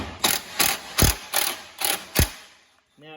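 A ratchet with a 15 mm socket turns a nut on the steering of a John Deere lawn tractor, six evenly spaced metallic clicking strokes close by, followed by a brief pause and faint movement.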